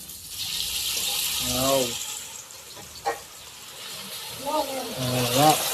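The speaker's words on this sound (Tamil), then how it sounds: "வனிதா தான் மீன் வறுக்க போறாரு. அப்படியே இந்த எண்ணெயில் இறக்க போறாரு." Pieces of fish lowered into hot oil for frying at a home Sunday non-veg meal. A steady bright hiss of frying runs throughout, with voices talking over it.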